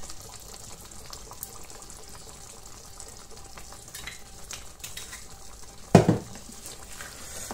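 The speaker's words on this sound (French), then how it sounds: "Je vais également rajouter un peu d'huile" Oil goes into a pan of pork roast cooking on the stove, bringing a brief loud burst of sizzling splatter partway through, set against a soft continuous frying hiss and faint stirring clinks.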